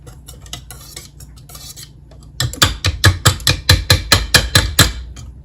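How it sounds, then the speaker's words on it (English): Metal spoon clinking rhythmically against a pot while egg yolk powder is stirred over low heat, about a dozen sharp, close scrapes and taps in steady succession after a quieter stretch of faint kitchen clatter. "Puts in the egg yolk powder, she puts it on low. Alright, she mixes it around."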